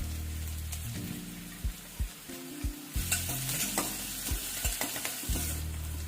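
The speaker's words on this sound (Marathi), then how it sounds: "तेल गरम झालं की जिरं मोहरी टाकून घेऊ, त्यानंतर कांदा टाकून देणार आहोत," Cumin, mustard seeds and onion frying in hot oil for dal fry, a steady loud sizzle broken by sharp clinks and scrapes of stirring in the pan.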